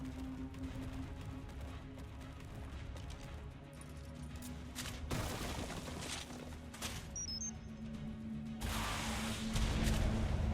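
In Ark: Scorched Earth, rockets fired from a rider on a Megatherium go off with a run of crashing blasts and whooshes. Sharper bangs come near the middle and a heavy roaring burst at the end, all moderately loud, with no voices.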